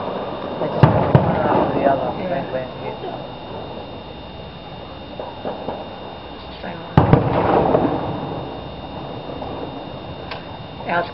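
A fireworks display at Te Atatu South on 22 December 2012 sends sharp bursts and crackling pops at intervals over a background of murmuring bystanders' voices, with two louder blasts standing out.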